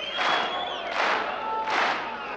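An antsy concert crowd in The Blues Brothers, a loud, continuous roar of shouting and cheering voices that swells in three waves, with whistles cutting through.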